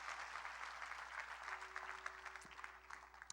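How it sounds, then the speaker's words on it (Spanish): Soft, distant applause from a church congregation fills the space evenly, a continuous patter of many hands clapping with a faint low hum underneath. "Démosle más fuerte ese aplauso al Rey de Reyes y Señor de Señores."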